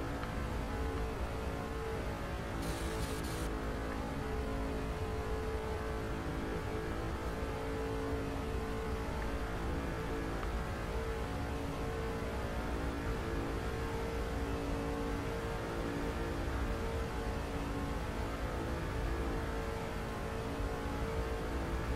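Race car engines from the NASCAR 2006 video game, a steady, loud, continuous high-revving drone held for the whole stretch, full throttle with no break, and no talking over it.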